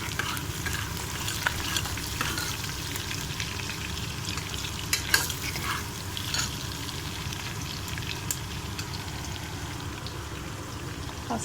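Turmeric sizzles and fries in a pan while being stirred, a continuous close crackle with occasional scrapes and clinks of the spoon, no talking.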